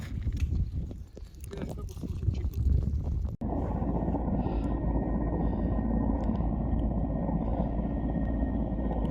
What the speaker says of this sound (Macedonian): Долу хеликоптерот врши излекување во провалијата